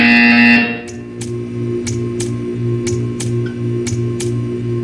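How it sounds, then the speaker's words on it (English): A buzzer in the video game Portal 2 gives a loud, brief electronic buzz at the start, then a low hum continues under a regular series of sharp clicks. "You will hear a buzzer."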